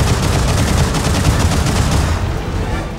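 Concentrated gunfire from the CrossFire video game rattles loud and dense in rapid continuous bursts, fading slightly toward the end.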